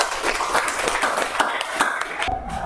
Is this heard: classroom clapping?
yes